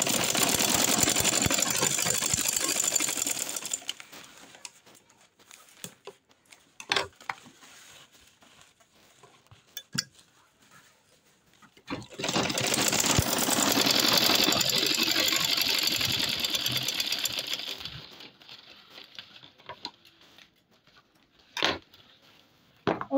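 A sewing machine top stitching a jute bag runs in two long bursts of steady whirring, each a few seconds, separated by a quieter pause with scattered clicks and handling knocks; close and moderately loud, no talking.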